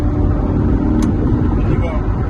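A Corvette C8 Stingray engine rumbles loudly and steadily from inside the car during a downshift, with a brief sharp blip partway through and a voice talking over it.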